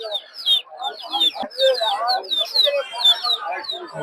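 Native deshi chickens at the Putia poultry market in Narsingdi, Bangladesh, give a steady stream of shrill, chirpy clucks and calls, several birds overlapping close by amid market bustle.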